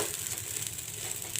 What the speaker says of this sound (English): The rice is fried up well.